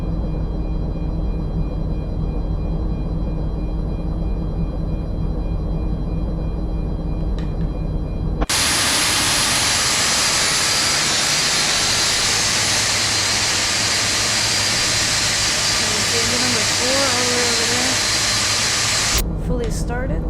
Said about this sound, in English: Starting engine 3.